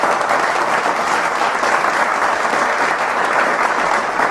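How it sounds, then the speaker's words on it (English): Steady, dense audience applause, close and loud, holding evenly for about four seconds without a break. "Give you a little clap for your success"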